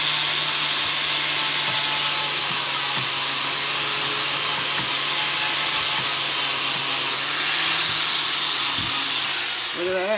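An angle grinder cuts through wood while building a DIY wooden wedding cross, a loud steady abrasive whine running continuously up close, with a voice briefly heard near the end.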